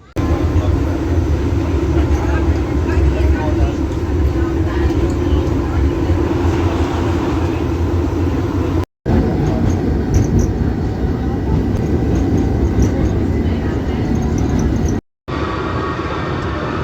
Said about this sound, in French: après un dernier départ de BB36000 à Kellenfold, retour au dépôt